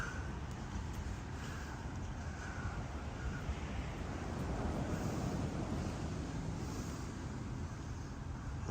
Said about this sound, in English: Hear the ocean waves and everything coming in.